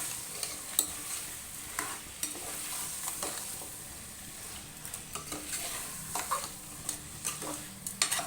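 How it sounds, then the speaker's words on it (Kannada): Carrots, beans, potatoes and peas sizzle in hot oil in a pan while being stirred, giving a soft, constant frying hiss broken by scattered scraping and clinking. "ಬಟಾಣಿನ ಸೇರಿಸಿ ಚೆನ್ನಾಗಿ ಒಂದು ನಿಮಿಷ ನಾವು ಫ್ರೈ ಮಾಡ್ಕೊಳ್ಳೋಣ ಎಣ್ಣೆ ಒಳಗೆ"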